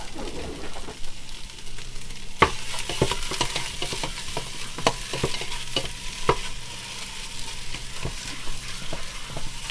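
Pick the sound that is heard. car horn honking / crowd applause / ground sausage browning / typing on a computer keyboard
ground sausage browning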